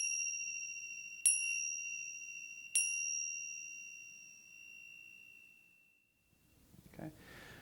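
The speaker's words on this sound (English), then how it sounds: "When I chime the bell 3 times, that ends the meditation." A meditation bell chimes twice, clear and ringing with long shimmering decays over a quiet room, each strike fading slowly before the next, followed by faint rustling.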